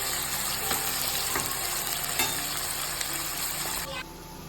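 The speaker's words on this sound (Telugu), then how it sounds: "ఆనియన్స్ అన్నీ గోల్డెన్ షేడ్లో వచ్చే వరకు వేయించడం." Onions frying in a pan until golden for a Telugu-style bhuna chicken, a steady broadband sizzle with occasional stirring scrapes, close and continuous without talk.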